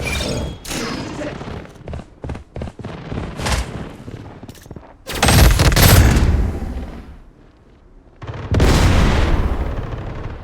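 Gunfire in the video game Blood Strike: a run of sharp, rapid shots early on, then two heavy, booming bursts of sustained fire separated by a brief lull, loud and close.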